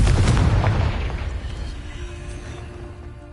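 A Confringo spell bursts in the Hogwarts Legacy video game with a loud, booming blast up front that decays into a rumbling tail, heard alone.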